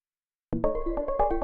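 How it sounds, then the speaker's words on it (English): Synth sketch built with Ableton Live's Arpeggiator in chord trigger mode for techno, entering after a half-second of silence with rhythmic stabbed chord pulses that repeat steadily at moderate loudness. "I was thinking about using Live's Arpeggiator in chord trigger mode to do stuff like this and then to create variations"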